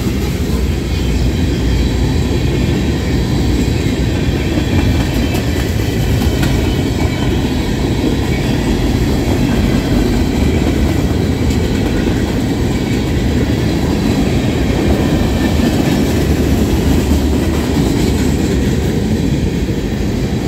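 A Norfolk Southern freight train with tank cars rolls past nearby in Creighton, Pennsylvania, a loud continuous rumble with steady rattling of cars and wheels over the rails throughout.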